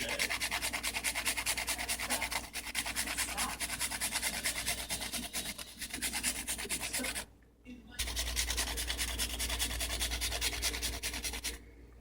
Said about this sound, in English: Alright, so I'm just using my grater